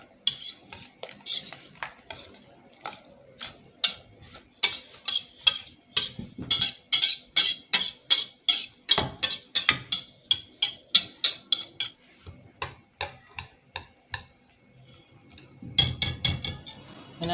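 A whisk beats eggs and fried plantain in a bowl for plantain muffins, making rapid, regular clicking strokes against the bowl. The strokes pause briefly, then resume near the end.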